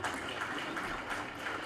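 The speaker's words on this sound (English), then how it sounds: "Let us again clap for them." Audience applause at a national secondary school sports event, a dense steady wash of clapping from a crowd, moderately loud and continuous throughout, with no voices over it.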